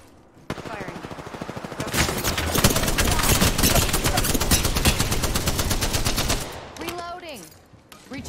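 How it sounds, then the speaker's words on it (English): Loud, dense automatic gunfire in the video game Apex Legends hammers in a sustained rapid burst, then stops abruptly, followed by brief in-game sounds and a short voice. "Firing."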